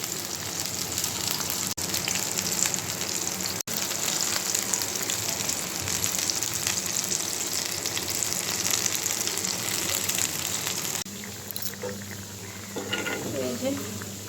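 Ridge gourd fritters frying in a pan, a continuous crackling sizzle of hot oil that runs steadily and then drops off near the end, with a voice speaking faintly over it.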